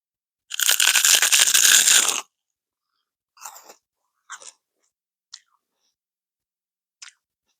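Crunchy seaweed chips are chewed close to the microphone: one long, loud burst of crackling crunches, then four short, quieter bites spaced apart against silence.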